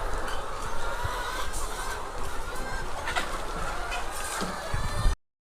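A flock of Sonali and layer hens, about seventeen weeks old and starting to lay, clucks and murmurs continuously against a noisy barn background, the calls overlapping at moderate distance.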